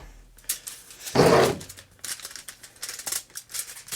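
A burst of scissors snipping through paper stands out near the middle, surrounded by softer rustling and light handling clicks.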